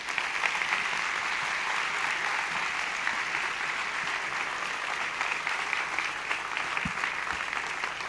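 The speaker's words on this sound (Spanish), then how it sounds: "un cerrado aplauso para Gustavo Vélez" Audience applause at a Smart City Expo in Santiago del Estero after a speech, a full, even roar of many hands clapping that stays steady throughout.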